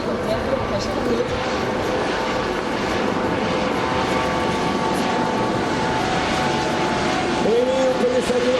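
French Navy helicopters fly past at a centenary naval air base event in Hyères, with a loud, steady rotor and engine drone and a rising tone near the end, while a person talks over it.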